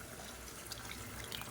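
Hot water pours from a cup into a pot of sautéed chicken biryani, a soft, steady splashing trickle heard close by with no voices.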